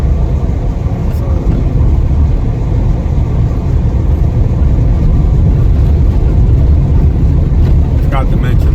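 Lifan engine of 100 or 125 cc, a copy of a Kawasaki, powering a motorcycle on an unpaved road in Corozal Town, Belize. It gives a steady, rumbling drone mixed with wind noise that lasts throughout, with a voice talking over it.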